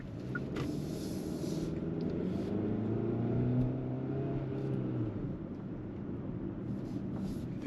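Engine and road noise of a 2023 Hyundai Tucson XRT AWD accelerating in normal mode, heard from inside the cabin as a steady low rumble and whir that rises slightly mid-clip, with no talking.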